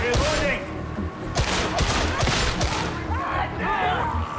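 Bursts of gunfire in the Warhammer 40K Darktide video game, several loud close shots and impacts amid combat noise, with someone talking over it.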